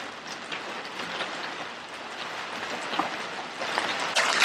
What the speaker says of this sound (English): Let me be quiet so you can hear the rain.